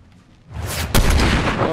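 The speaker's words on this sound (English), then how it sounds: "they're shooting at me" Gunfire in the Fortnite battle royale game: a faint lull, then a loud burst of shots at about half a second, followed by a sharp crack near the one-second mark and sustained dense firing and booms to the end.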